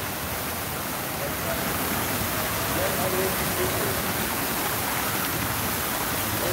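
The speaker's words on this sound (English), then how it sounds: "Waterfall on a nice hot day." A waterfall on the Las Vegas Strip gives off a constant broadband rush of falling water, close and fairly loud, with no break across the stretch.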